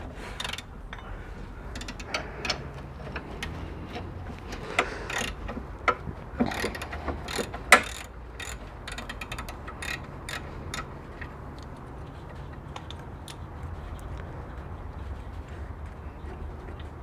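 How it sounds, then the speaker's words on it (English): A 17mm wrench and 17mm spanner work a front strut bolt on a Mitsubishi 3000GT/GTO, giving quiet, irregular metallic clicks and ratcheting ticks, a few sharper clanks near the middle, over low background hum without talk. "So it's 17mm wrench and a 17mm spanner."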